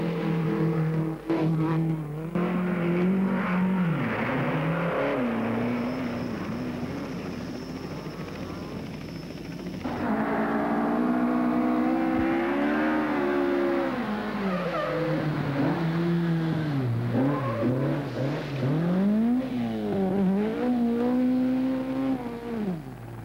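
Rally cars race flat out on British forest tracks at the 1971 RAC Rally, engines rising and falling through gear changes for over twenty seconds, loud and close with no speech.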